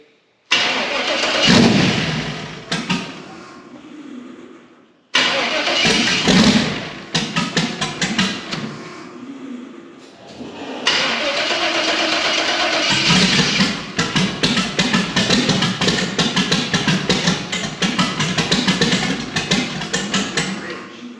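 A 1965 GMC with a twin-turbo 6.0 engine is cranked and fires on its first start-up, running rich. It catches, cuts out briefly, then restarts into a loud, rough, steady idle. It is close and dominant throughout, with occasional thumps.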